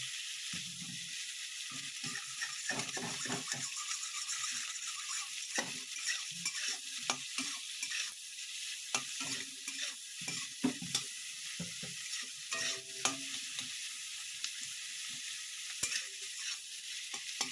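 Tomatoes stir-fry in a pan for a vegetable kofta made with chickpeas, rajma and soybean. A steady close sizzle runs throughout, broken by frequent scraping and clinking of a spatula against the pan.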